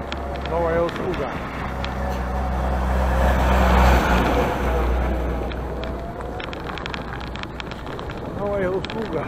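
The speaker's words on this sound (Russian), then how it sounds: "Первая машина мусоровоз тут есть." On a road, a garbage truck passes by with a rising and fading engine drone that peaks mid-way, while people talk.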